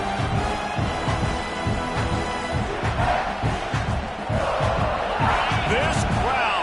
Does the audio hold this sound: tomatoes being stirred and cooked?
no